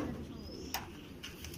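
Faint, low cooing of pigeons in a quiet space, with a couple of soft high chirps and small knocks in the background.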